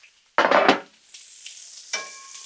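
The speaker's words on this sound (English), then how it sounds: "chicken wings sizzling on the Blackstone" Chicken wings are stirred on a Blackstone griddle outdoors, with a loud close scrape and sizzle burst followed by a quieter ongoing frying hiss and a second clink.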